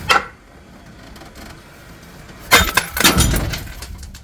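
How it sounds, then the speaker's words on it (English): A large glass shelf shatters during a living room renovation: a sharp crack and burst of breaking glass, followed by scattered tinkling and clinking shards close by, after a quiet stretch with a small knock. "This is the biggest shelf too, so it's probably going to have the most amount of glass coming."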